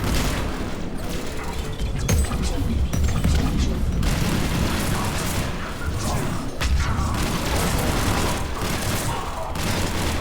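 Turret gunfire in Mass Effect 3 Legendary Edition on Xbox Series X: steady loud bursts of shots and booming impacts run through the whole stretch, with a player's voice faintly mixed in.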